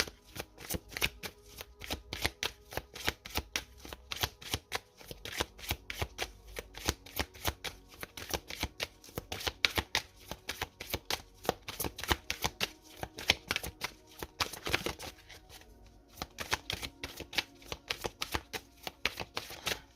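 Tarot cards shuffled continuously for about twenty seconds, a dense run of crisp, riffling flicks that swell and ease with the handling, close and alone with no talking.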